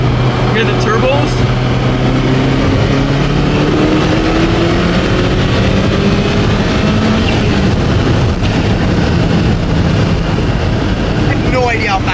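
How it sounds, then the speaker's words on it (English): Inside a moving Ferrari F40, the turbocharged engine drones loudly with rising and falling whine and whooshing turbo spool over steady road and wind roar, heard from the cabin. "Hear the turbos?"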